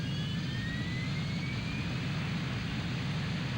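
A jet fighter in the flight game Ace Combat 3: Electrosphere takes off, giving a loud, steady roar of engine noise with a faint rising whine that holds without a break from start to finish. No one talks over it.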